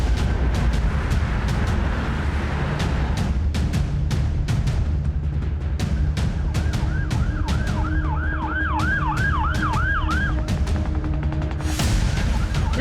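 Ambulance siren wailing loudly and steadily in a rising and falling pattern over constant road traffic noise, with sharp clicks scattered throughout and no voices.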